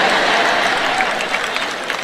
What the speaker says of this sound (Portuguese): Bem, isso não merece tantos aplausos,